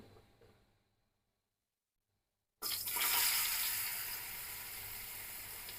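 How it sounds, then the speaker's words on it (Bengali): Potatoes frying in oil in a pan for a vegetarian Bengali pea dish, a loud steady sizzle that starts abruptly after a moment of quiet and holds on close and even. "আলুগুলো সুন্দর ব্রাউন কালার করে ভেজে নিতে হবে"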